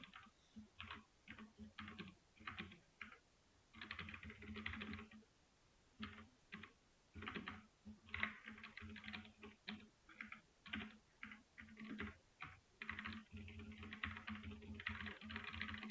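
Rapid bursts of typing on a computer keyboard as code is entered, close and clear, with short pauses between runs of keystrokes and no talking.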